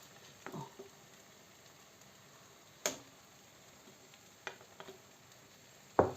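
Faint, soft sizzling of pancake batter frying in a pan, with a few sharp pops and clicks scattered through the quiet crackle.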